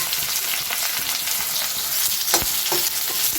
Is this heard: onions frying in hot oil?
yes